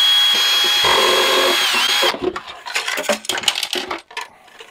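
A part being unscrewed from a dead mini fridge, a steady whirring drive sound for about two seconds, then a run of small metallic clinks, rattles and handling knocks, close and fairly loud.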